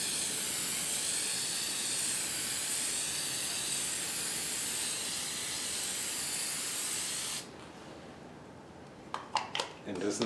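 An aerosol can sprays varnish onto a colored pencil drawing on sanded paper in a long, steady, close hiss, then stops, followed by a few light clicks and handling sounds.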